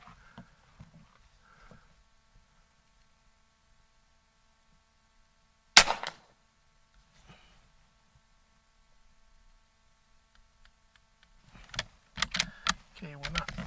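A single sharp, brief shot from an Umarex Gauntlet G2 .30 caliber airgun breaks an otherwise quiet stretch; faint handling noises follow and clattering and rustling pick up near the end.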